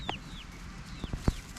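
Backyard hens in a permaculture garden food forest, heard as a few soft, brief clucks with faint bird calls, fairly close, with no talk over them.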